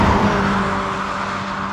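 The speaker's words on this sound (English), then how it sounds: "if you, you know, jam the throttle, it skip shifts. It'll drop straight from eighth to sixth or fifth" A Mercedes GLA45 AMG engine revving steadily and loudly as the gearbox skip-shifts down from eighth gear, a continuous close roar with no talking.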